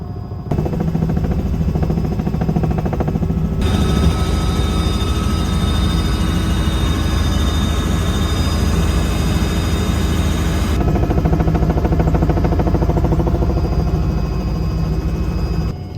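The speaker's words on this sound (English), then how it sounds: "We also spotted one of the Coast Guard helicopters that's been delivering or picking up some boxes" A Coast Guard helicopter flies near Iceland's volcanic eruption site, its steady loud rotor drone and engine whine continuous throughout, shifting in tone as it passes.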